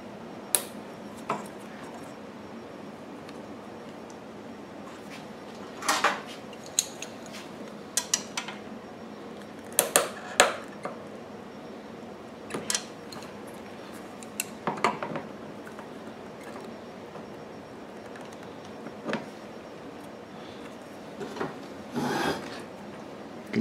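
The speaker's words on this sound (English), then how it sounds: "we're going to put a hose clamp on it." Metal hose clamp being fitted onto the gasoline fuel hose of a Pulsar PG4000iSR generator during a fuel kit install, with scattered close scraping, rasping and small metallic clicks at irregular intervals over a quiet background.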